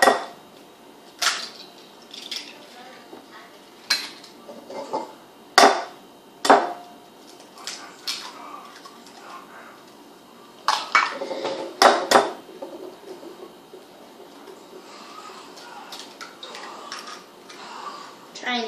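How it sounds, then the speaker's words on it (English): Eggs cracked one after another against a bowl while preparing BBQ meatballs: a string of sharp, close taps and cracks at irregular intervals, with small clinks and shell sounds in between. "So now I'm going to crack my eggs into my bowl."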